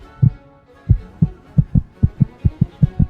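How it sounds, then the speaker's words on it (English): Foley heartbeat effect, a run of deep, muffled thumps in quick paired beats that grow faster and more regular, close and solid with nothing else behind them. "The heartbeat"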